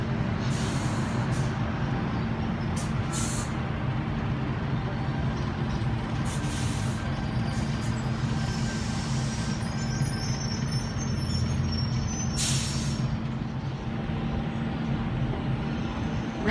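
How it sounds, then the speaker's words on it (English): A Sydney Tangara train pulls into platform 1 at Carlton station with its brakes on: a steady, close rumble that runs the whole time, with thin high brake squeals over it and no talking. "We have a Tangara arriving onto platform 1"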